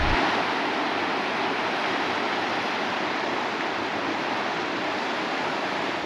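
River water rushes steadily through a washed-out hot spring pool in Idaho, a dense, continuous broadband roar close by with no pauses or voices.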